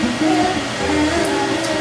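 Steady whooshing airflow from a running hair dryer, a constant close hum with a faint whine.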